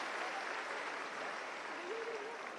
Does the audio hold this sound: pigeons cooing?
no